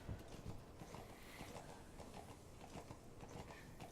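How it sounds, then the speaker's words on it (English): A horse in Metal Gear Solid V trots along at a steady rhythm, hooves clip-clopping softly against the ground at a quiet level. "Sweet little D horse just trotting along."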